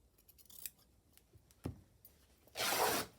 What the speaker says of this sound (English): I quite like that, so let's cut that down.